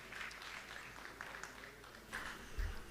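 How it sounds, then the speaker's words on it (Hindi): A Jain religious gathering with a muni present breaks into applause, a steady mass of many hands clapping at a moderate distance that swells briefly toward the end. "पुनः तालियां तालियां तालियां तालियां बजा करके अपन अभिनंदन करते हैं बंधुओं"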